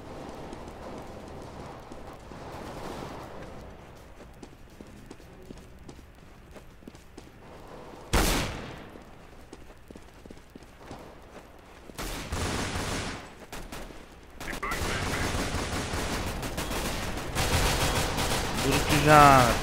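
Gunfire rings out in the video game Counter-Strike: Global Offensive, with loud bursts of shots and rapid firing breaking in over quieter game ambience and footsteps, the shooting growing denser toward the end.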